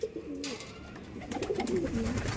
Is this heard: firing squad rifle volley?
no